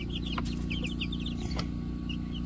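A turken, the naked-neck chicken breed, clucks in a short series of soft calls close by, heard alone over a steady farmyard hum.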